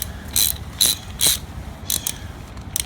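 Close ratchet clicks in quick separate bursts as a bolt on a Melling 10296 oil pump is torqued down during an LS1 timing chain install in a 240SX S14 drift build.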